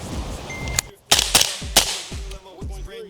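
Rapid rifle shots from a 5.56 rifle fitted with a WhisperStrike Match titanium suppressor crack out in quick pairs and strings, sharp and close, each followed by a brief echo off the range.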